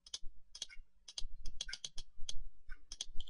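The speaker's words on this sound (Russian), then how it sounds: "Я беру, нажимаю Ctrl." Sharp keyboard key presses and mouse clicks at a computer while working in GIANTS Software's editor, a close series of separate dry taps in small irregular clusters, with no voices.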